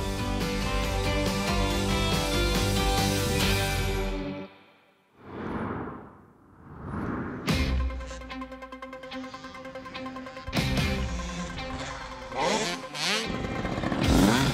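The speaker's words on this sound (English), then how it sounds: "The sound of two-stroke engines first thing in the morning may not be everyone's ideal start to the day" Two-stroke motocross bike engines screaming and revving hard, loud and close, with a brief drop as one passes before buzzing, crackling engine notes rise again and sustain.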